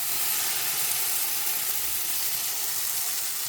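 Prawns and bánh xèo batter sizzle steadily in a frying pan over medium heat, a dense, even crackling hiss that holds at a constant level throughout with no voices.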